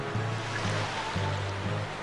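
A steady roar of rushing water from a waterfall in Dragon Quest Swords, constant broadband wash with a low rumbling hum pulsing underneath, no voices.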